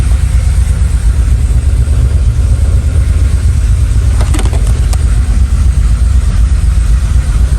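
A 1987 Chevrolet Monte Carlo SS with Holley EFI runs at a steady, loud idle after starting, its deep engine rumble continuous and close throughout, with a couple of brief clicks partway through.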